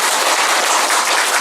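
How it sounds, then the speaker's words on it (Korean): An audience at a political academy lecture in Daegu claps in dense, sustained applause, loud and even for the whole short stretch, with no voices. "정말 열심히 강의해 주신 노진철 학장께 다시 한번 뜨거운 박수 부탁드리겠습니다."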